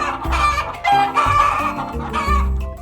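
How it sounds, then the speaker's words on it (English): An animated chicken clucks repeatedly in short, bright calls over a musical backing, loud and close, with no voices. "I see a clever chicken looking at me."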